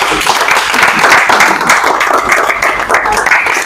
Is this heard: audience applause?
yes